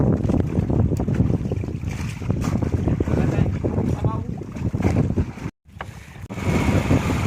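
A generator runs outdoors at dusk on a squid-fishing outing, a steady rumbling drone broken by a brief drop, with wind noise and a voice talking over it.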